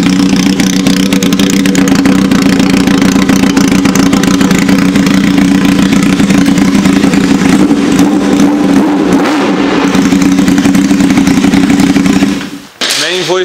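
A Honda Hornet motorcycle engine runs loud and close on a stand, rasping steadily with rev swells before it cuts off abruptly near the end.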